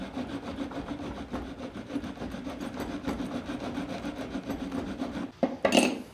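A wooden half-lap joint being trimmed with a rasp or hacksaw, giving a steady, rough back-and-forth scraping that runs continuously and close, then turns louder and harsher near the end.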